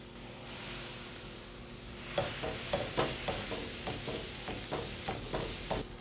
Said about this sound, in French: je prends une louche de pâte à crêpes